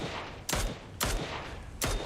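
Three sharp bursts of gunfire from PUBG Mobile during a competitive esports match, evenly spaced and fairly close, with a steady hum of game noise between them and no speech.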